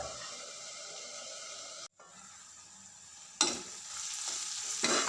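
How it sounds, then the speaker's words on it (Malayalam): Onions sautéing in a pan for a restaurant-style fish curry, a steady close sizzle that briefly drops out, then returns brighter and louder with stirring; no voices. "അപ്പോൾ ഉള്ളിയൊക്കെ നല്ലോണം വഴന്ന് വന്നിട്ടുണ്ട്."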